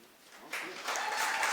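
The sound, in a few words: audience applause at awards ceremony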